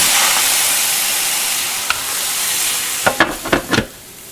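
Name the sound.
omelette sizzling and steaming under a lid with water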